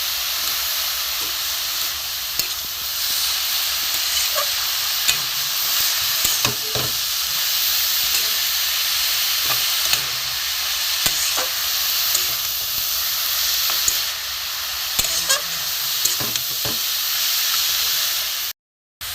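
Prawns and chopped radish frying in a pan for a Bengali chhechki, a loud, steady hiss and sizzle with repeated spatula scrapes and clinks, close up and with no talking, cutting off abruptly near the end.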